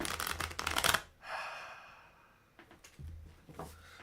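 Tarot cards shuffled by hand in two bursts, a dense riffling flutter at the start and another near the end, with a quieter rustle between, close and fairly soft.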